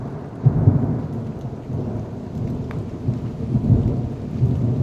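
Heavy thunderstorm with hail and lightning, a steady roar of rain and hailstones with low rolling thunder rumbling underneath throughout, no voices.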